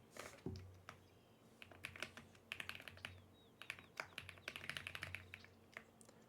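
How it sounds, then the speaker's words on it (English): Quiet, rapid typing on a computer keyboard, a steady run of light key taps in irregular bursts over several seconds, close and soft with no talking. "Let me actually type it out for him."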